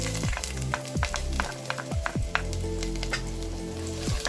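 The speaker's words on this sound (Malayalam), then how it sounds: "കടുക് പൊട്ടിക്കഴിഞ്ഞാൽ ഇപ്പോൾ ഇഞ്ചിയും വെളുത്തുള്ളിയും ചേർത്ത് കൊടുക്കാം." Ginger and garlic frying in hot oil after mustard seeds have popped, for a Kerala-style prawn ghee roast; a steady close sizzle runs throughout, punctuated by repeated sharp crackles and pops, with no talk.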